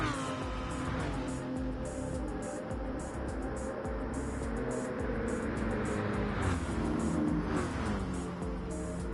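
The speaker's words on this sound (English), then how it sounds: "Corvette versus BMW." A Corvette and a BMW race car battle for position in a Le Mans sim race, their engines droning loudly and continuously with shifting pitch as they run close together, with a commentator's voice over the top.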